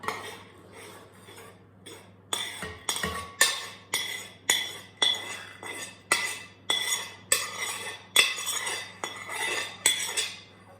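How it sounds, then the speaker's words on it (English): Metal spoons and utensils clink and tap against a mixing bowl in a rapid, regular series of sharp knocks as dry ingredients for ham and spinach muffins go in. The sounds are close and clear with no talking. "I am now going to pull my bowl over and I am going to add all of these dry ingredients"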